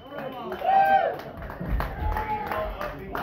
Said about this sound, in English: There's four people in the crowd, Monty. They ain't gonna be able to clap too loud, are they?